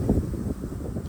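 Low, rumbling wind buffets a microphone at an outdoor shooting range, steady and close throughout with no voices.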